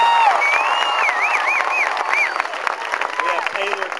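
Crowd applause and cheering for two varsity cheerleaders at a support rally, mixed with loud whistles and shouts, continuous and fairly close throughout.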